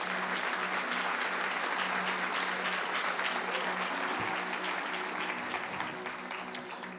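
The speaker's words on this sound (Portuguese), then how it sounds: "Ao sentar, ofereça a Deus a sua melhor salva de palmas." A church congregation applauds as they sit down during a Portuguese-language worship service, with steady dense clapping filling the room and holding a fairly even level throughout.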